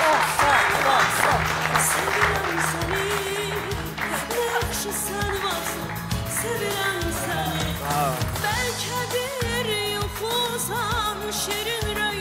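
A studio audience on an Azerbaijani TV talk show applauds to welcome an older guest from Pirallahı. The clapping is steady and dense for the whole stretch, mixed with loud band music.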